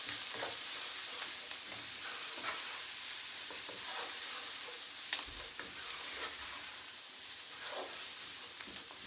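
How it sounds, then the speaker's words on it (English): Spices including paprika dry-fry in a pan as a home cook prepares Cuban chicken and rice, a soft continuous sizzle and hiss broken by occasional stirring scrapes, quiet and close. "we'll dry fry these spices a little bit."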